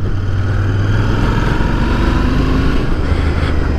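A Royal Enfield Interceptor 650 motorcycle engine runs steadily close by, a loud, even low rumble with a throbbing idle-like pulse and no voices.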